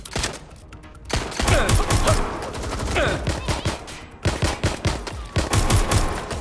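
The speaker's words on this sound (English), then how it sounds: "Shots fired!" Rapid bursts of automatic gunfire crackle through a firefight in the video game Watch Dogs Legion, starting after a brief lull and rattling on almost without pause, loud and dense with overlapping shots.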